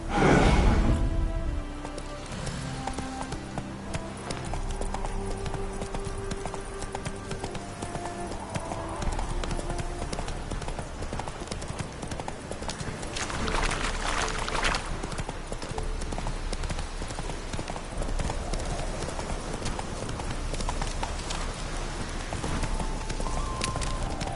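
Steady clip-clop of horse hooves trotting in the video game The Witcher 3: Hearts of Stone, close and continuous under a constant wash of background noise, with a brief louder burst near the start.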